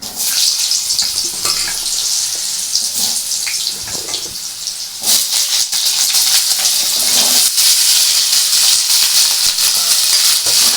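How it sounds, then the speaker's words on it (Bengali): Potatoes dropped into hot oil in a pan for Bengali aloo posto, giving a loud, close, continuous hissing sizzle that surges partway through and stays dense to the end. "এবার এই তেলের মধ্যে আমি ছেড়ে দেবো আলু"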